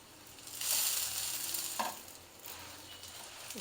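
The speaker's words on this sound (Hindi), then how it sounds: "एक पलटा लेके हम साइडों से इसके किनारे दबाएंगे ताकि अंदर तक पक जाए" A thick square achaari paratha cooks on a griddle while its edges are pressed with a spatula, producing a soft, quiet sizzle with a brief scrape partway through.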